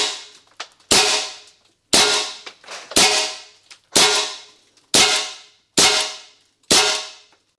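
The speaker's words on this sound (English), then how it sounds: "There's quite some recoil on this air rifle. I like it pretty much. Shoots as fast as you could pull the trigger." A BinTac T9 semi-auto air rifle fires pellets in eight sharp, loud shots at roughly one-second intervals, each a crisp crack with a brief metallic ring, and silence in between.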